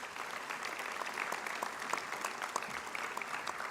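An audience at a graduation ceremony applauds, a steady, dense wash of clapping hands from a sizeable crowd, moderately distant and sustained throughout without talking.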